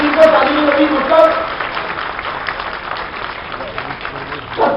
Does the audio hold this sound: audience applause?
yes